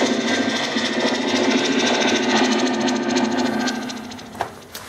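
An Ibanez six-string electric guitar plugged into a Zoom G1X effects unit gives off a steady buzzing, humming noise close up, with no playing, fading slightly near the end with a couple of small clicks.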